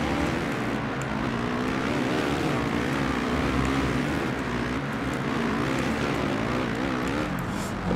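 Several motocross bikes from the MXGP video game roar together in a continuous, dense engine drone, loud and steady throughout, with revs rising and falling as the pack races.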